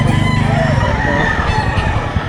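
A gamecock crows amid the bustle of a fighting cock market, its call loud and close over crowd noise and background voices.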